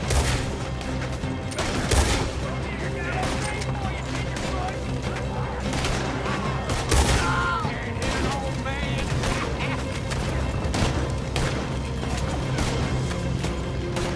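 Gunfight in the video game Red Dead Redemption 2: a dense, continuous barrage of loud gunshots and booms with overlapping fire throughout, under shouted dialogue between characters.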